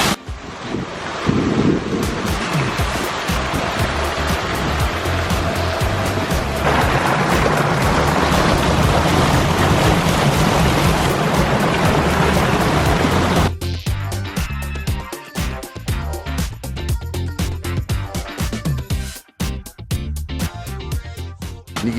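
Large industrial pumps push a huge volume of water in a loud, continuous roaring rush, steady and dense for a long stretch before breaking into choppier bursts.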